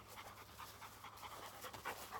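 A dog pants steadily in rapid, rhythmic breaths during obedience training, close and fairly faint, with no talking.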